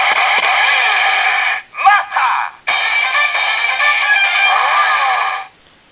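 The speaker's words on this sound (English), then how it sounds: "it's the summoning noise for his Zenrin shooter" A DX Mach Driver Honoh transformation toy plays its summoning sound for the Zenrin Shooter. The electronic effect is loud and tinny, sustained for several seconds, broken by a short stuttering burst, then stops abruptly.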